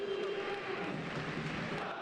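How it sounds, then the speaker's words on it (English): Football crowd noise at Cercle Brugge's stadium during a match against Wisla Krakow, a steady, fairly thin roar of voices and faint chanting that holds without a break. "Not a fantastic crowd."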